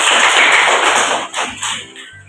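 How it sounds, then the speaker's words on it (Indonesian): Classroom applause from students after a group presentation, a dense burst of many clapping hands that swells and then thins out over a couple of seconds, close and fairly loud. "Beri aplaus yang banyak."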